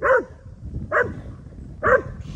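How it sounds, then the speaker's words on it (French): An excited Australian cattle dog barks three times at a steady rhythm, the loud, sharp barks sounding close with no talk over them. "dès qu'il est un peu excité, il aboie, c'est normal"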